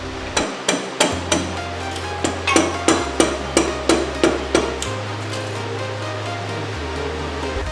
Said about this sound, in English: I use a rubber mallet to help beat it in place.